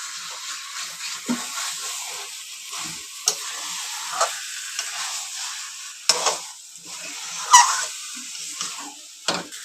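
Potato pieces fry in a pan for chicken biryani, a soft steady sizzle broken by sharp clinks and scrapes of stirring at irregular intervals, close and fairly quiet.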